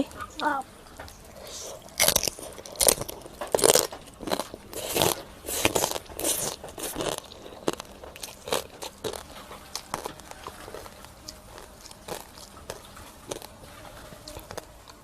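Crunchy fresh and blanched vegetables, eaten with spicy fermented-fish rice noodle salad, are bitten and chewed up close in a run of sharp crackling crunches that come in irregular bursts, loudest early on and fading toward the end.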